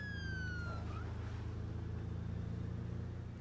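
Modded ambulance siren in State of Decay, a wailing tone that sweeps down and fades out early, over a loud steady engine drone that hums on throughout.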